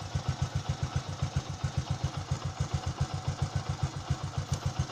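Motorcycle engine idling after a single kick start, a steady close thumping pulse with a faint mechanical clatter on top, no talking; the bike had been suffering from hard starting.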